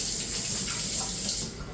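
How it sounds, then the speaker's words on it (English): Water from a running kitchen tap hisses and splashes steadily as hands are washed, close and continuous, then softens slightly at the end. "I'm going to wash my hands"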